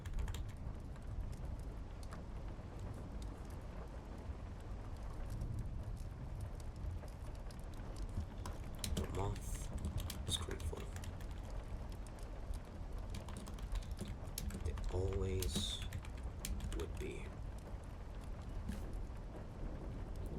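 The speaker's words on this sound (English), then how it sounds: "hope the keyboard isn't too loud for you guys" Someone types on a computer keyboard, a continuous stream of quick, soft key clicks at close range, with a few louder taps and brief bursts of other noise partway through.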